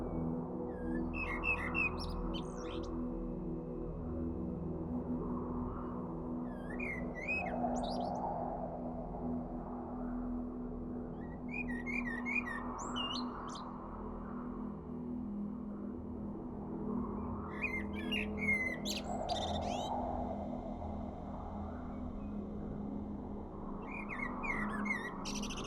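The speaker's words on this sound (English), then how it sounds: "The only things we can hear are the chirping of birds" Birds chirp in an outdoor mountain setting in the Altai, short bursts of high tweets recurring every few seconds over a steady low background hum, fairly distant and soft.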